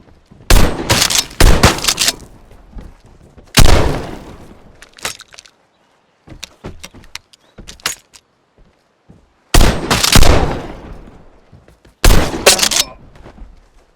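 Remington 870 shotgun firing in the game Vigor: several loud, sharp blasts, some in quick pairs and others spaced a few seconds apart, with quieter clatter and shuffling between shots.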